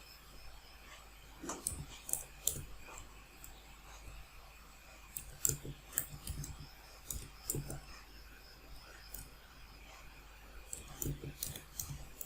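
Sharp computer mouse clicks come one or two at a time at irregular intervals over a quiet room background, with faint breathy voice sounds between them.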